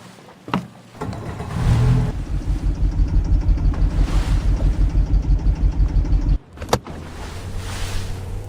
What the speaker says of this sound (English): Shifting the boat into gear